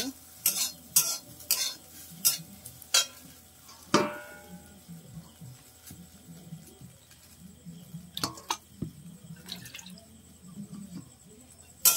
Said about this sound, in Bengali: এটা হচ্ছে সোয়াবিন বড়ি, বড়িটাও ভাজা হয়ে এসছে।